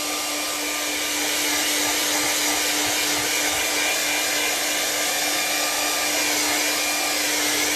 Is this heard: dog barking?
no